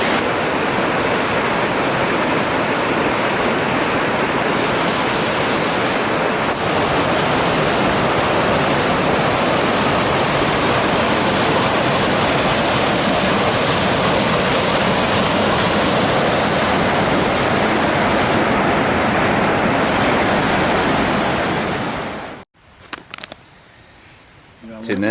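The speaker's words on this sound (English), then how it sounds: "you get to walk and you get to really be by a really cool river" A river beside the Superior Hiking Trail in fall rushes with a loud, steady broadband roar that stays constant for about twenty seconds, then cuts off abruptly.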